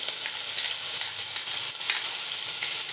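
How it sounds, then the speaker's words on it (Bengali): Ginger and green chilli paste sizzles loudly and evenly in hot oil with cumin and asafoetida, a bright continuous hiss with faint stirring. "এর মধ্যে আদা আর কাঁচা লঙ্কার পেস্টটা দিয়ে দিচ্ছি"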